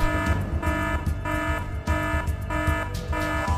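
A base alarm in the video game Front Mission 4 blares in a steady repeating pattern of loud buzzing tones, about two pulses per second, filling the scene.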